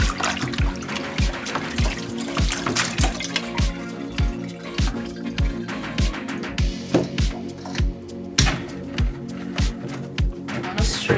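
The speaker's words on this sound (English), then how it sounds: "Strain it now." Soaked sorrel liquid for a Jamaican Christmas drink being strained, with a steady run of drips and trickles and repeated splashing pulses close by.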